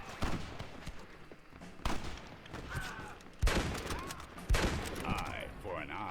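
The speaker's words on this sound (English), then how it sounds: "We got a lot of ammo for my bolt action rifle." Bolt-action rifle shots ring out in Red Dead Redemption 2, several sharp cracks spaced a second or so apart amid a busy game soundscape, with a voice talking in places.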